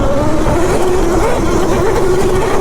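Powerful dirt motorbike on knobby tires revving hard while climbing a hill, a loud, continuous engine drone close by with a steady pitch and no voices.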